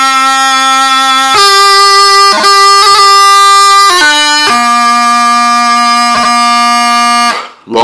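Bagpipes play the opening two bars of "Mist Covered Mountains" as a funeral tune, giving loud sustained reedy notes with sharp grace-note breaks between them. The melody is played solo, with no voices.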